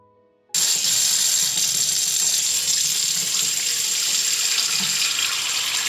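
Water gushes steadily from a tap into a kitchen sink, a loud, constant hiss that starts abruptly and continues without pause.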